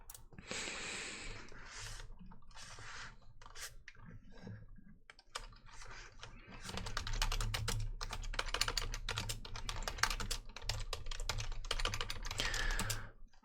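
Close, crisp computer keyboard typing for an ASMR chat, starting sparse and hesitant, then settling into dense continuous clicking, with no talking over it.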